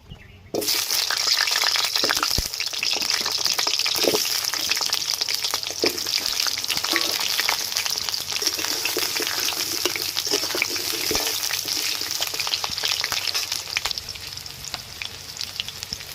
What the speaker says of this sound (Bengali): এই আলুগুলো প্রথমে আমি লাল লাল করে ভেজে নেব